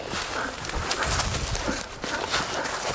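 A pigeon-like bird planted in a field for bird dog training coos in soft repeated calls, close by, against a rustling outdoor background.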